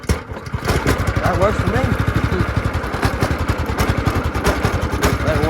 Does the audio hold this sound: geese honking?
no